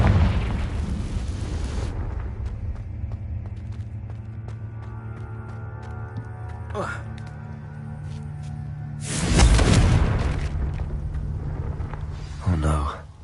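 Confringo spell explosions in Hogwarts Legacy, a burst near the start and a loud booming blast around the middle, with a smaller crackling pop near the end, all over a steady music bed.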